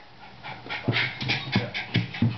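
A dog pants in quick, rhythmic breaths close by, several huffs in a row with no talking.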